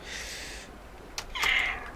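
A pet house cat meows twice, a drawn-out plaintive call followed after a brief pause by a higher, brighter one, close and fairly soft indoors with no talking.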